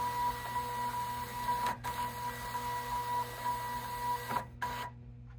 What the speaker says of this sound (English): now it's going to calibrate and see what it looks like with labels on and with ribbon installed. It feeds a few so that it can take some measurements.